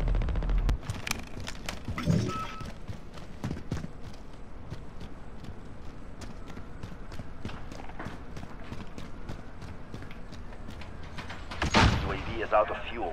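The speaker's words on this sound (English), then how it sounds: "UAV begins to fire." Rapid gunfire from a UAV in a video game crackles as a dense run of sharp shots through the clip, with a louder burst near the end, heard under ongoing speech.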